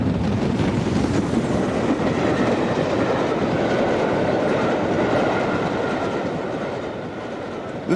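An LMS Black Five steam locomotive, number 5407, runs a holiday train along the North Wales coast, a loud, steady rumble of rolling wheels and rushing air that eases slightly toward the end.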